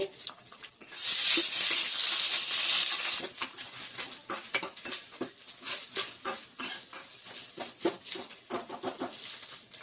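Finely chopped large onion drops into hot oil for a lobia curry, a burst of loud sizzling followed by scattered stirring clinks and scrapes of a spoon in the pan.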